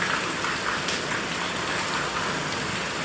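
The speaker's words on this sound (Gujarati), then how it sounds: "કેવો વરસાદ આવે છે આમ તમે અવાજ એટલો આવતો હશે." Heavy rain pours down in a steady, dense roar of drops striking surfaces nearby, loud and continuous throughout with no voices.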